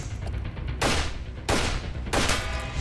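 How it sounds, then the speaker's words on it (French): Three loud, sharp AK-47 assault rifle shots ring out at roughly even intervals at a shooting range with targets, each crack followed by a brief echoing tail. "Sur la cible de 50 mètres, tu n'as tiré que 3 balles."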